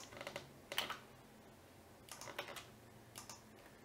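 Someone types a username and password on a computer keyboard in short, quiet bursts of rapid key clicks separated by pauses.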